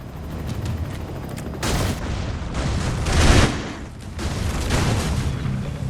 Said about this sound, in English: I've also glitched to have loud guns